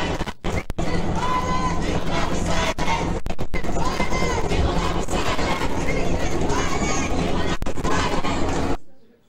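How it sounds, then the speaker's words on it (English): Loud protest crowd outside a Ben Shapiro speech, a dense roar of massed voices and shouting that continues steadily for several seconds with brief dropouts, then cuts off abruptly near the end. "Here's the crowd chanting outside Shapiro's speech about his speech being violent."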